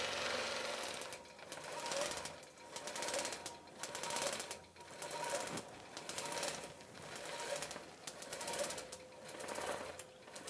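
A quilting machine stitches out a Christmas tree skirt with a steady, fast mechanical chatter that rises and falls in repeating swells, fairly loud and continuous throughout, with no talking over it.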